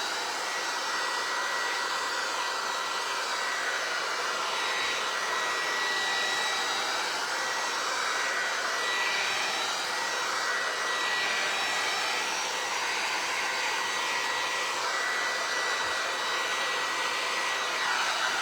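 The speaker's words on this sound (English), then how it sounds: "do not get your heat gun too close to it because you will warp it." A heat gun blows with a loud, steady roar held close for the whole stretch, drying paint around the edges of a vinyl record, with no voices.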